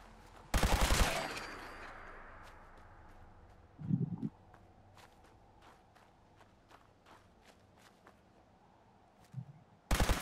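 Blaster fire in Fallout 4 survival mode, a few sharp bursts with a loud blast near the start and another at the end, scattered light clicks and steps between them and no talk.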